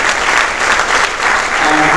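An audience claps steadily for an Astronomy Olympiad team that won medals, dense continuous applause filling the room without a break, loud and close.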